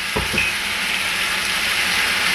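Chopped onions dropped into a hot pan with meat set off a loud, steady frying sizzle that begins with a couple of quick clatters and then hisses on without a break, close up and with no voices.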